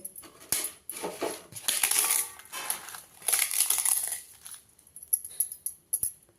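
Crisp, brittle crunching comes in several short bursts as a papadum is broken up by hand over lemon rice, close and fairly loud.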